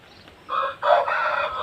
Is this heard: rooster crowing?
yes